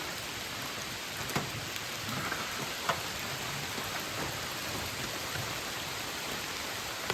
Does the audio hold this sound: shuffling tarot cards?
no